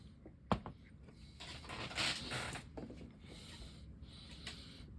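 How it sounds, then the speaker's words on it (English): A Shimano Spheros 8000FA spinning fishing reel rotor being cleaned, quiet close-up rubbing, wiping and small mechanical clicks, with a sharp knock early on. "let's clean this rotor"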